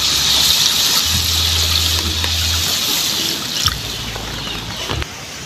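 Water pours into a pot of spicy whole chicken humba, a steady gushing trickle that runs throughout and shifts in tone partway, heard close with no talk.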